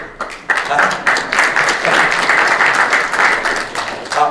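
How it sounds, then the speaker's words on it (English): A debate audience breaks into loud, steady applause, a dense wash of many hands clapping that builds quickly and holds for several seconds. "I'm even more astonished that people clapped it"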